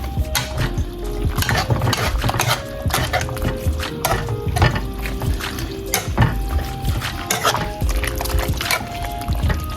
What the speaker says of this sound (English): So right now we're gonna pour the mixture, the sauce.